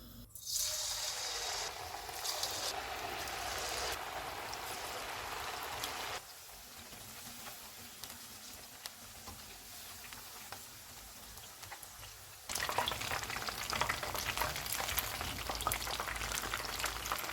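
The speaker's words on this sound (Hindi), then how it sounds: "ऑयल गर्म हो गया, इसमें पकौड़े डाल देते हैं।" Chicken pakoras deep-fry in hot oil on low-to-medium heat, giving a dense, continuous bubbling hiss. The sizzle drops and surges in loudness at a few abrupt points.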